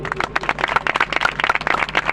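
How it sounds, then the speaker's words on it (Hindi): Church audience at a Christian sermon clapping, a quick steady patter of many hands close by filling the short clip, with no talking over it. "जरा ताली बजा दो।"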